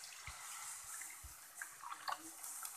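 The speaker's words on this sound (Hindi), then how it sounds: "देखिए अब हम इसमें पानी डालेंगे, पानी थोड़ा थोड़ा करके डालेंगे ताकि इसमें लम्स ना पड़े" Water poured little by little into a batter of potato and semolina for a snack, a faint, close trickle and splash with soft intermittent stirring knocks.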